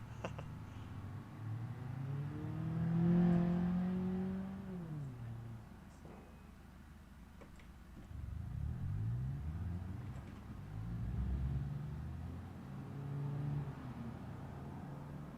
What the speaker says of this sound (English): I can actually hear the car now.